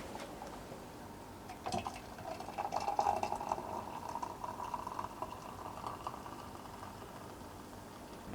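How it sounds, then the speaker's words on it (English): Boiling water, 400 ml, is poured into a container for chia seed pudding, a soft continuous gurgling and filling stream that swells in the middle and tapers off, fairly quiet, without voices. "And then we're going to do 400 ml of boiling water."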